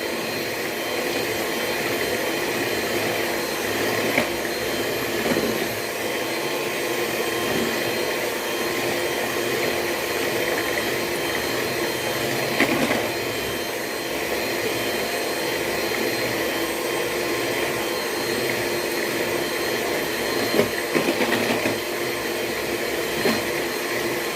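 An electric mixer whirs loudly and steadily while blending lemon cake batter ingredients, a continuous motor drone with no pauses throughout.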